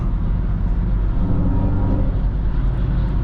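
Mercedes-AMG EQE53 electric car, 687 hp, cruising on a crowded autobahn: a loud, steady low drone with road and wind roar, unbroken throughout with no talking.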